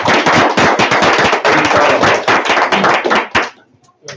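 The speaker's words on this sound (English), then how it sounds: "we should give another round of applause" Loud, close handclapping from a small audience, rapid and irregular, gives a brief round of applause that stops abruptly, leaving a few scattered claps at the end.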